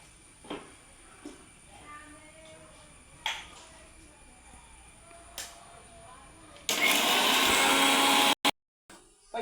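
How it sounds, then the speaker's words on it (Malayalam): A mixer grinder powdering cardamom with sugar: after scattered quiet knocks and soft voices, a loud whirring burst runs about two seconds, cuts off, then briefly restarts. "ഏലക്കായി പൊടിക്കണ്ടേ അപ്പോൾ കുറച്ച് പഞ്ചസാര വേണം എന്നാലേ ഏലക്കായി പൊടിയും"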